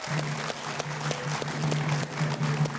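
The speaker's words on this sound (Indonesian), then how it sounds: "Tepuk tangan untuk Muhammad Yassin." A studio audience on a televised candidate program applauds Muhammad Yassin, steady scattered clapping heard over a low sustained hum, moderately loud and continuous with no speech on top.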